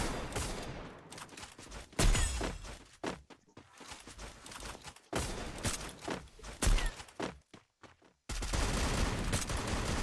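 Bursts of gunfire from the mobile battle game Free Fire crackle in rapid volleys and single shots as players trade long-range fire, loud and dense throughout, with a few brief spoken words mixed in.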